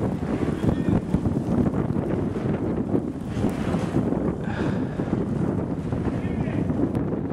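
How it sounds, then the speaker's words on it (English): Strong blizzard wind in New York City on a December evening buffets the microphone with a loud, steady roar and gusty rumble throughout, with someone talking over it. "This is a blizzard. It's really strong. The wind's really strong."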